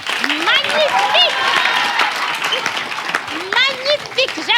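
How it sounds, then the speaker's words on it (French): Studio audience applause on a French talk show, a sustained clatter of clapping heard under overlapping excited voices and laughter. "Applaudissez."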